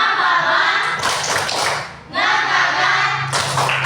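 Classroom of students doing a tepuk semangat spirit clap, loud bursts of group clapping and chanting voices in rhythmic phrases with a brief pause midway.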